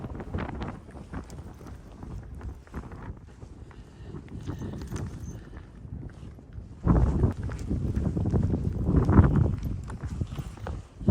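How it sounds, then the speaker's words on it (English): Cold wind gusts outdoors on a steep, slippery trail, rumbling across the microphone in uneven bursts that grow stronger partway through, mixed with footsteps and occasional soft talk. "Ooh, that wind just came up. It's cold."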